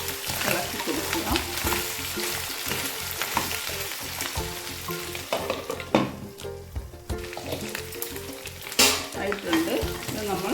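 Mutton pieces frying in a pan for Afghani mutton curry, with a steady loud sizzle under repeated scraping and clinking as a spoon stirs the meat, and no talk.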